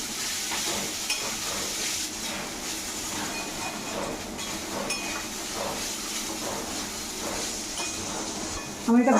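Spices and ginger powder being stirred in a pan for khichuri, a steady scraping, sizzling texture that runs continuously at an even level with a slightly louder knock at the very end.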